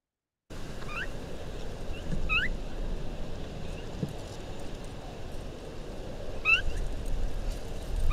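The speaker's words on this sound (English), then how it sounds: "It's like this very cute little beep beep." A small bird in the Chihuahuan Desert in winter gives short, high beeping calls in a few quick bursts at about 1, 2.3 and 6.5 seconds, fairly faint over a steady outdoor rumble with no talking.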